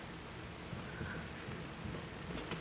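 Steady rain in an old 1931 film scene, a constant hissy wash of falling water with low rumbling underneath, faint and muffled, with no voices.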